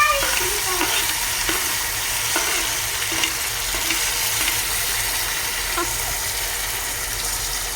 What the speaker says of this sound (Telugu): ఇలా కరివేపాకు, వెల్లుల్లి, పోపు గింజలు ఫ్రై అయ్యాక ఇందులోకి అయితే టమాటాలు వేసేసుకున్నాం.